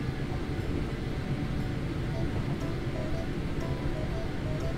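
A train runs in Train Sim World 5 with a continuous low rumble and broad wash of rolling noise, steady and fairly loud, with faint higher tones drifting over it.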